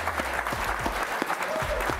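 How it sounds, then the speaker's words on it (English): Applause at an aviation prize award ceremony, a soft, distant wash of many hands clapping that stays even throughout, somewhat muffled and low in level. "Please give them your applause."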